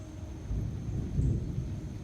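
Thunder rumbles low and heavy during a storm beside a railway line, swelling twice in a long, rolling wash of sound with no voices.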